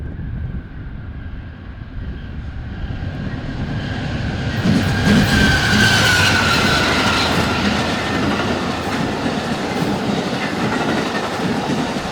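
An Amtrak passenger train rumbles past close by, with a steady loud roar, rhythmic clatter of wheels over rail joints, and a brief metallic squeal midway.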